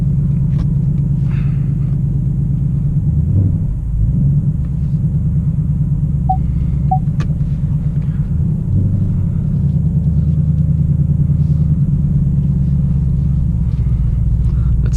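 A deep, steady 2018 Ford Mustang GT V8 engine rumble idles loudly and continuously, with a few swells in revs, close up and with no talking.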